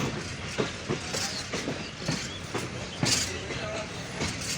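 Kanchan Commuter passenger train hauled by a WDM 3D diesel locomotive, heard as a steady rumble with rhythmic clickety-clack of wheels over rail joints, fairly close and continuous, with faint voices underneath.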